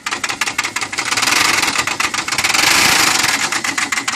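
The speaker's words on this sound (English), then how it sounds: "my Jeep engine having a really really bad knock" A Jeep engine with a rod knock runs loud and close, a rapid, steady metallic knocking tapping out an even rhythm over the whole stretch. No one speaks.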